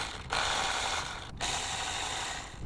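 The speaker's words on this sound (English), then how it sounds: "So he's going to remove both of those with the Milwaukee Ratchet 10mm socket." Milwaukee ratchet with a 10mm socket backing out bolts beside the throttle body of a Toyota FZJ80 Land Cruiser engine: a fast, continuous ratcheting clatter close by, broken by two brief pauses.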